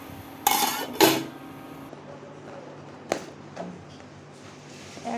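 A metal pot on the stove is covered with its lid while tea is being made, giving two sharp clanks close together and then a lighter clink, with faint kitchen noise between.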